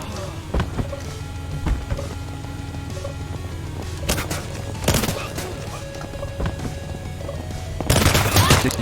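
Sharp bursts of gunfire in the video game Scarlet Shell crack out over a low steady background hum, including a few isolated shots and a dense rapid volley near the end.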